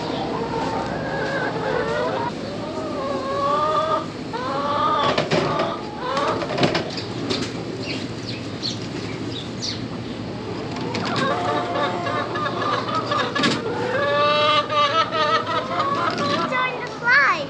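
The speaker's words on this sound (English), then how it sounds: "Chickens like their worms." Backyard farm chickens cluck and squawk while being fed worms, their calls mixing with children's excited chatter and voices throughout, close and busy.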